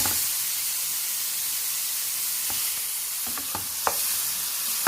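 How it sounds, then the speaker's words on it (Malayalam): Chicken frying in butter for shawarma, a dense continuous sizzling hiss up close with a few soft scraping stirs near the end, no voices. "ഞാൻ അതിലോട്ട് ഒരു ടേബിൾ സ്പൂണോളം ബട്ടർ ചേർത്ത് കൊടുക്കുന്നുണ്ട്"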